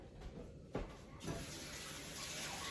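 Tap water runs steadily into a kitchen sink while a lemon is rinsed under it, a close, continuous splashing rush with a brief louder burst as the fruit shifts in the stream.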